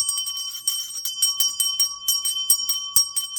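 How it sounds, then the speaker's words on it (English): A handheld bell rings repeatedly in quick, steady strokes, bright metallic tones sustaining between strikes, close and clear with no talking. "I'm called to ring my bell of truth regarding my throat chakra."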